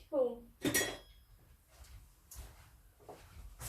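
A spoon clinks against dishes as it is grabbed during soap making, a few brief close metallic rattles at the start followed by quieter handling sounds, with a faint voice in the background.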